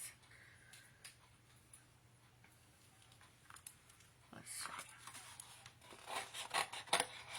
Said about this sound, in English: So I'm just going to cut these out. I don't mind fussy cutting things like this.